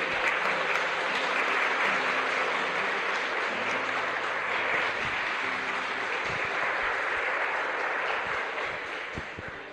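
A church congregation applauding together, a dense, sustained clatter of many hands that holds steady for several seconds and then begins to thin out at the end.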